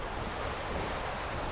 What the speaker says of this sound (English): hopefully you can hear us over the wind and the waves and everything